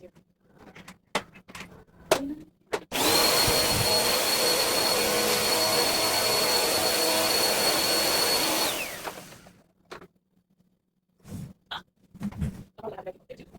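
A household vacuum cleaner roars loud and steady for about six seconds, switching on abruptly and winding down, with scattered clatter and movement before and after while tidying a living room.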